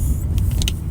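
A compact car drives along with a steady low road and engine rumble from inside the cabin, with a few light clicks and rattles on top and no talking.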